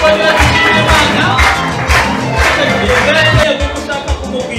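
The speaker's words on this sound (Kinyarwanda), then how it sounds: "amashyi menshi cyane" A crowd at a wedding celebration claps and cheers loudly, with close, rhythmic clapping bursts and shouted voices rising and falling throughout.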